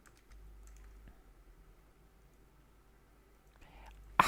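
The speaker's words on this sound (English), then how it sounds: "You just need to type nuclei" Faint, quick keystrokes on a computer keyboard as a command is typed into a Kali Linux terminal, soft and close over a low background hum, with a slightly louder clack at the very end.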